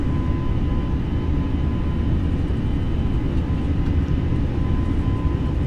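Simulated airplane rolling down a runway for takeoff in Microsoft Flight Simulator 2020, a steady loud low engine and rolling rumble holding constant throughout with no talk.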